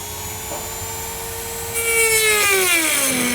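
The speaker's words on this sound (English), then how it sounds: "I'm going to use a rotary tool with a plastic cutting blade" A rotary tool fitted with a plastic cutting blade slices through the bumper fascia of a 2013 BMW X5, a steady high whine that grows louder midway and sags in pitch as it bites in near the end.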